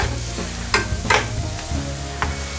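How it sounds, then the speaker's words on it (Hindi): Onions lightly frying in a pan for aloo samosa filling, a dense close sizzle with a few sharp stirring scrapes and a steady background hum, no speech. "ये प्याज हमने डाल दी इसको फ्राई करने के लिए। इसको हल्का फ्राई करेंगे"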